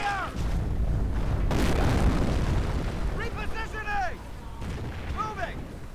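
Mortar and artillery fire in a Company of Heroes battle, with heavy rumbling booms and blasts rolling loud and continuous through the first part, then lighter pops and crackles as someone talks over it.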